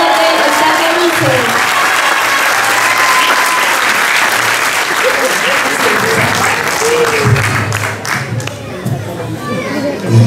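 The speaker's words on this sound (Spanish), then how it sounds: "Recibamos con un caluroso aplauso a James Pizarro Chiva del barrio Verde" Warm audience applause at a piano recital, sustained clapping from a crowd filling the whole stretch with some cheering and chatter mixed in, loud and close throughout.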